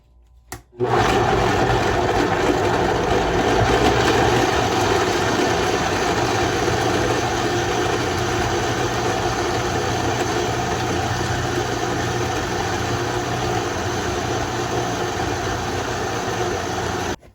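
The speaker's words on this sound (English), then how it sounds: "So let me get this in the blender and come back to you guys." An electric kitchen blender runs continuously, mixing Jamaican sweet potato pudding ingredients; a loud, steady motor whir starts abruptly and holds unchanged for over fifteen seconds before stopping.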